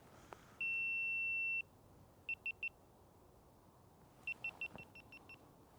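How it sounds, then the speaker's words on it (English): A GoPro camera beeping as its battery dies outdoors: one long sustained tone, then a quick triple beep, then a faster run of short beeps, faint against quiet outdoor background. "And that's my GoPro died."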